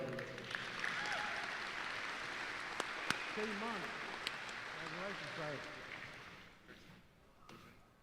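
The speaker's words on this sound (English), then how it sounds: "round of applause, please" A crowd applauds steadily for several seconds at a Texas Department of Transportation safety banquet while a voice speaks over it, then the clapping thins out and fades near the end.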